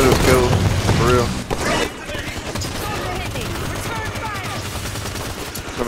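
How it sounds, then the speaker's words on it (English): Enemy gunfire in Halo 5 Warzone Firefight multiplayer, dense bursts of rapid shots and booms filling the mix, loud at first then continuing as steady crackling fire under a player's talk. "Watch the enemy fire."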